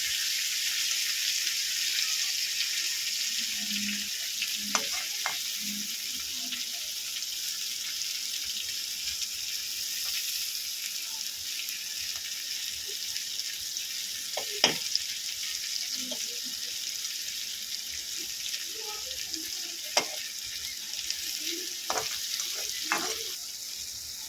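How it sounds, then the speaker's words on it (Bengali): Onion and chili fry in a pan with a constant, loud, even sizzle, broken by a few faint clinks and stirring scrapes, and no voices. "পেঁয়াজটাকে হালকা করে এবারে ভেজে নিচ্ছি"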